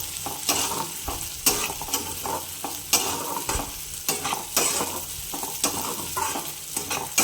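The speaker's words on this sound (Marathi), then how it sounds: "काजू आणि बदामच घातले फक्त. म्हणजे तेही तुपात छान रोस्ट होऊन जातात." Cashews and almonds roasting in ghee, a steady bright sizzle with a spoon stirring and scraping the pan at a regular pace, close and continuous, without voices.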